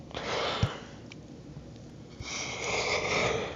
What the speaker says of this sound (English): Sorry, that yawn was personal.